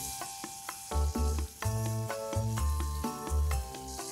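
Long-sliced onion frying in a pan while making tomato rice, a steady sizzle broken by repeated scraping and stirring strokes, close and fairly quiet.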